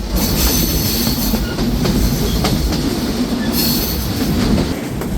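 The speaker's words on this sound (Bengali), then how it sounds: "ট্রেনটি এখন ছেড়ে যাচ্ছে মিরপুর রেলওয়ে স্টেশন" The Chitra Express pulls out of Mirpur railway station with a loud, continuous rumble of wagons, rattling wheels and a high metallic squeal, heard close up without talk.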